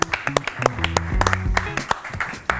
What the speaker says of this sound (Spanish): lo hacemos con un fuerte aplauso como cada mañana